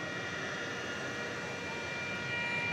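At an airport at night, a steady high-pitched whine holds constant over a low rumble of aircraft engine noise, faint and continuous with no speech.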